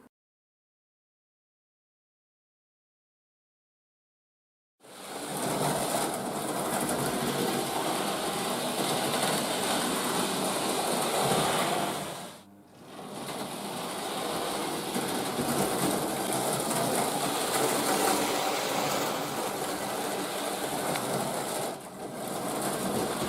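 A Hornby Dublo 3-rail model train running over a crossover between two track circuits: after silence, a steady close whirring rumble of motor and wheels sets in, with a brief dip midway and a short gap near the end.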